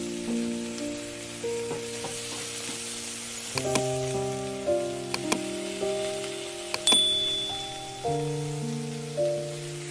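Pork fries with onion and tomato in a pan, giving a continuous sizzle and crackle under steady background music with occasional clinks.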